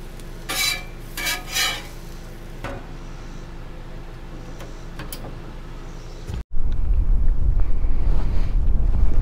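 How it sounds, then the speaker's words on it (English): Wind at a lakeside campsite in a state park on a hot day, a steady low rush that suddenly turns into loud continuous buffeting against the microphone after a few faint knocks and clinks. "And it is windy."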